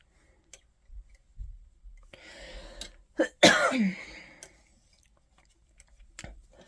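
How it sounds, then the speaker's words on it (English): A person coughs once sharply, close to the microphone and fairly loud, while recovering from a lingering cough during a session of hand-cranked circular sock machine knitting. Light clicks and small handling noises sit before and after the cough. "Still getting over this cough."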